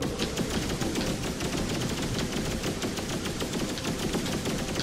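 Rapid laser fire from spaceships in the space game X3 Reunion, a dense continuous stream of crackling, machine-gun-like bursts that stays loud and steady throughout, with no talking.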